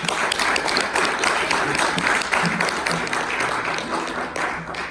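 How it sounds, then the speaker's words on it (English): Audience applause during a Māori cultural show, a dense sustained burst of many hands clapping that stays loud throughout and eases slightly toward the end. "How about another round of applause?"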